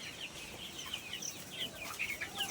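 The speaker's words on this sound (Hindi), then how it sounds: "देखिए बर्ड।" Black Australorp chickens on a poultry farm cluck softly and repeatedly at a distance, with a steady low background murmur and no talking.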